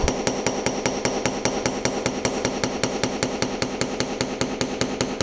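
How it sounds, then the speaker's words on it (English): A narrow, rounded texturing hammer strikes metal in a studio, about two dozen steady, evenly spaced ringing blows, close and clear, with no talking. "I can actually take this and hammer in different curves"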